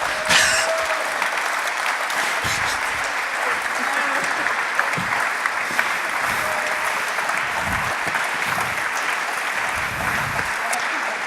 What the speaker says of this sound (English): we repeatedly smash our hands together in a big round of applause for everyone here